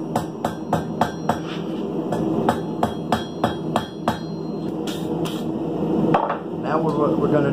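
A hammer strikes hot steel at a forge, rounding over the point of a scorpion-shaped bottle opener. Sharp metallic blows ring out in a quick, even rhythm, close and loud.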